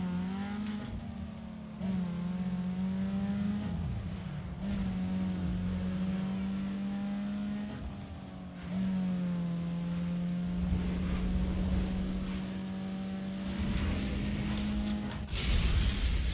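Drag race in Need for Speed Underground 2: a loud, steady engine drone climbs in pitch through repeated gear shifts, each shift briefly dropping the tone before it rises again, ending with a burst of rushing noise.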